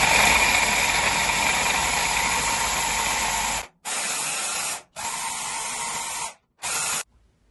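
A blender processes beef liver and chopped onion with a loud, steady whirring roar, then cuts off and restarts in three shorter bursts separated by brief silences.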